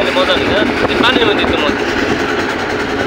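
Trawler boat engine running steadily as it pulls away from a river ghat on the Nikli haor, a continuous close low drone with people talking over it.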